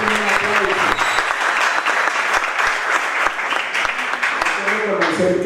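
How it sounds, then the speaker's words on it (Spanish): Crowd at a community gathering in Buenaventura applauds the young people present, dense and loud clapping sustained for several seconds, with voices mixed into the applause. "Quiero que realmente le demos un aplauso a la juventud"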